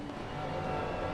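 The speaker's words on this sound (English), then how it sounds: "Here's Katkus in the Ferrari." A Ferrari GT3 race car pulling out of the pits in a sim racing endurance event at the Nürburgring, its engine a steady, dense roar that swells slightly over a brief moment.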